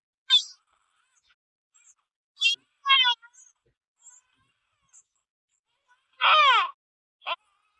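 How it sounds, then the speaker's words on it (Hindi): A recording of a baby crying plays through a OnePlus phone speaker, in short, sharp wailing bursts separated by pauses, with a longer cry near the end. "ये बच्चे के रोने की आवाज़ है"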